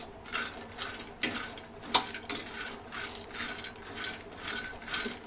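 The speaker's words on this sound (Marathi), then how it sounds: "भाजून घेऊया शेंगदाणे जे आहे जास्त काळपट करायचे नाहीत आपल्याला" Peanuts dry roast over low heat in a pan, stirred so they rattle and scrape against the metal in a steady rhythm with a few sharper clinks.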